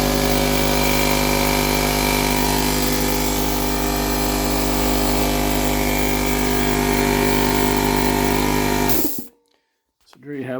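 An 8 gallon air compressor with a newly replaced cooling fan runs with a loud, steady motor drone and hum close by, then shuts off abruptly and winds down into near silence.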